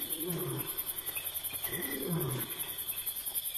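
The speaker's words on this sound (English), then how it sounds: "the lioness is calling for her pride" A lioness calls out for her pride on the open plain, giving a series of deep, rough roaring grunts at moderate distance over a constant chorus of insects.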